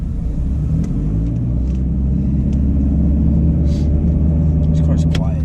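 Steady low engine hum of a 2015 Nissan Altima sedan heard from inside the cabin while driving, a constant rumble with road noise beneath people talking.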